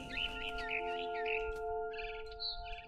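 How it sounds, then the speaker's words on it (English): Barn swallow chirping in the game What Remains of Edith Finch, a run of short bright chirps and trills close by over steady tonal game ambience, without talk. "I heard chirping outside my window. It was a barn swallow going back to her nest"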